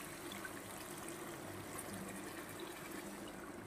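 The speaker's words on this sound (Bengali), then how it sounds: "তো এবার আমি পরিমাণ মতন জল দিয়ে দেব বন্ধুরা" Water pours into a rohu fish and potato curry in a pot, a soft, steady, continuous stream that stays faint and unbroken throughout.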